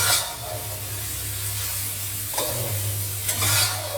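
Pork belly with fermented shrimp paste frying in a pan for a Thai dish, a steady loud sizzle and hiss with a low hum, broken by a few brief stirring scrapes, no talking.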